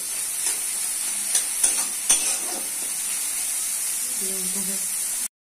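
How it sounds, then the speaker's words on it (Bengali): Soybean chunks fry with onions in a hot pan, a steady bright sizzle running throughout, a few sharp clicks and scrapes from stirring, then an abrupt cut to silence at the end. "দিচ্ছি সয়াবিন, পেঁয়াজের সাথে সয়াবিন লাল করে দিতে হবে।"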